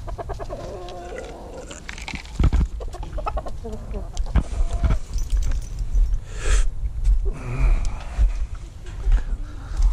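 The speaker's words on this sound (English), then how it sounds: "Get out of here, you stupid chicken" Chickens cluck and squawk close by in a farmyard, several short bursts scattered over a steady low rumble, with a person talking intermittently among them.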